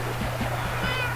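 Cats in Minecraft meow softly a few times, short plaintive cries over a low background hum, fairly close but not loud.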